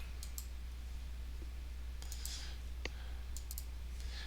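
Mouse clicks at a computer while working in Microsoft Access, a handful of faint, sharp taps scattered over a steady low hum.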